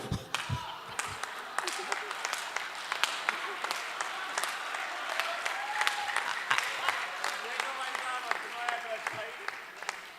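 An audience at a Hindi poetry recital claps in steady, dense applause that runs for the whole stretch at moderate distance, with faint voices underneath.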